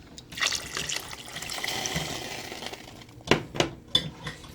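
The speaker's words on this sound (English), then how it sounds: "I think I'm gonna add a little bit more water." Water pours and splashes into a gumbo pot of chicken, sausage and shrimp, a steady close running stream followed by a few sharp clinks and knocks of a utensil against the pot.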